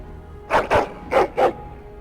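A dog barks four times in the fantasy video game Dragon Age: Origins, loud and close, in two quick pairs with a short pause between them, and no talking over it.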